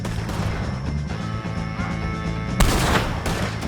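Gunfire rattles through a shootout with O'Driscoll gang members in the video game Red Dead Redemption 2, with a sharp loud burst near the end over a busy background of game sound.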